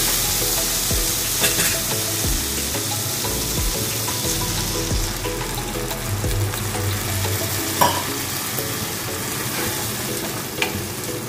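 Steady, loud sizzling from a pan of fried vegetables with a little water just added, a low bubbling hiss, a few utensil knocks and scrapes scattered throughout, no talking.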